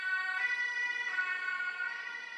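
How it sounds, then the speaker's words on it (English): An ambulance siren wails steadily in a high, multi-toned sweep, loud and continuous as it goes by on a street in Germany, with no voices over it. "What's that, a German fire truck or something? Or what's that, police? Ambulance."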